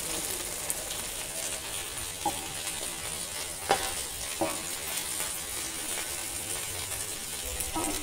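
Corn cutlets shallow-frying in a little oil in a pan, giving a soft, steady sizzle with a few faint clicks and scrapes as they are turned.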